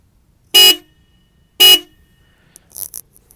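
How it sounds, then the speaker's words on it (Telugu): A 2025 Honda Highness CB350 motorcycle sounds its horn in two short, loud, close blasts about a second apart, followed by faint handling noises. "మీకోసం ఒకసారి హార్న్ సౌండ్."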